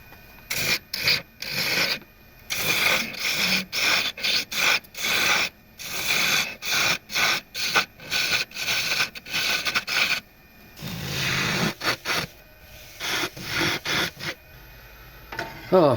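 Coarse, aggressive sandpaper rubs a wooden dibble's curve in quick, rhythmic back-and-forth strokes, loud and close, broken by brief pauses with a longer scrubbing run near the end.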